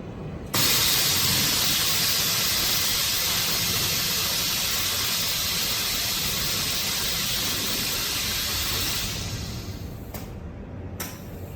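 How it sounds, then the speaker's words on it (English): An ESKO lifting-type lipstick vacuum mixer lowering its vessel makes a steady, loud hissing rush that starts abruptly, holds evenly for about eight seconds, then eases off with a couple of brief clicks near the end. "And now we will try lifting down"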